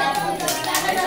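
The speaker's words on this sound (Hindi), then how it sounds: "ताली बजाओ।" Hands clap together at a child's sixth birthday celebration, a brief burst of clapping mixed with voices nearby.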